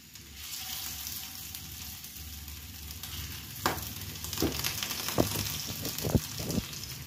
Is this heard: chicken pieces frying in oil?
yes